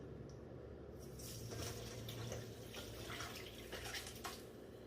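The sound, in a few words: pouring bone broth through a fine mesh strainer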